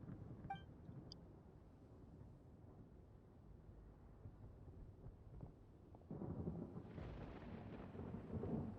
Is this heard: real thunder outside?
yes